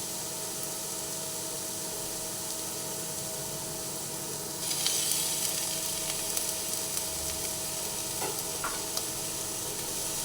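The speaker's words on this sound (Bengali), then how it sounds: "আলুটা দিয়ে দিলাম দিয়ে দেওয়ার পরে সব মিশিয়ে আবার আলুর সঙ্গে একসঙ্গে মিশিয়ে ভেজে নিচ্ছি" Boiled potato is mixed with beetroot and fried for cutlets, with a steady low sizzle that swells into a brighter, louder hiss partway through, plus a few faint stirring scrapes.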